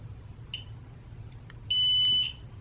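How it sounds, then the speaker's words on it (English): A Presidium Gem Tester II gives a short tone, then a loud, steady, high beep of about half a second when its probe touches a ring's metal, heard against low background hum. "when I hit the metal, that's when it sends that really loud beeping sound"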